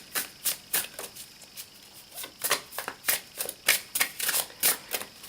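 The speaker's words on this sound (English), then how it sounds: "Let's give it a shuffle." A Golden Dawn Magical Tarot deck being shuffled by hand, a run of crisp, rapid papery riffles and flicks in quick uneven bursts, close and clear with no talking.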